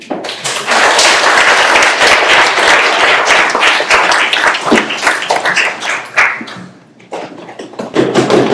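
Audience applause at a spiritual lecture Q&A, a loud, dense round of clapping from a large crowd that holds steady for several seconds, thins briefly, then picks up again.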